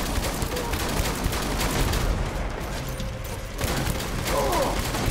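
Gunfire in the video game Death Stranding, a rapid series of loud shotgun blasts and bursts over a dense battle din, with a brief lull in the middle before firing resumes.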